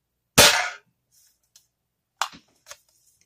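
A BB gun fires a homemade bullet with one sharp, loud crack, followed by a few faint distant ticks and clinks as the pellet lands, with no voices.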